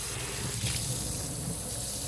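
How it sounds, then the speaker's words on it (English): Running tap water gushes steadily over a smelly Dyson DC33 cyclone pack caked with pet dander, a close, continuous splashing rush in a sink with no voices. "Just doing an initial rinse right now, just to get any dirt out."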